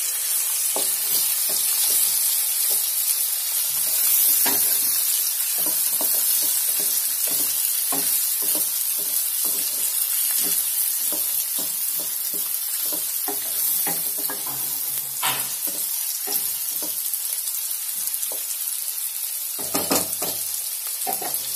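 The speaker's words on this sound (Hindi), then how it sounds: "इसको अच्छे से मिक्स कर लेना है" Chicken sizzles loudly in a hot pan while being stirred, a dense steady frying hiss punctuated by frequent scraping and tapping strokes of a spatula.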